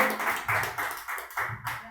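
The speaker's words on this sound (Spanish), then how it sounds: "Si le das un aplauso al Señor en esta hora." A church congregation claps in a service, with a rhythmic pattern of distinct claps over about two seconds, moderately loud, with faint voices mixed in.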